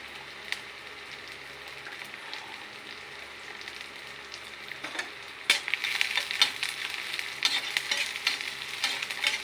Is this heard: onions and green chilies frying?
yes